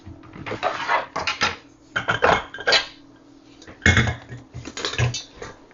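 A mixer bowl is set down onto a stand mixer fitted with a grain mill attachment, giving several close clanks and knocks of metal and hard parts in irregular bursts with pauses.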